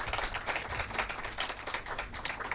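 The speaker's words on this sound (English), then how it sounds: "Can we have a huge round of applause" Dense audience applause fills a hall at a World Vegetarian Week event at Expo 2020, steady and loud with no break for the whole moment.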